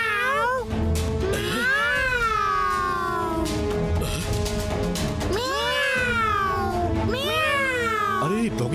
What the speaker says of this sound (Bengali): মিয়াও মিয়াও ডেকে আমি তোমাদের কাছে টানি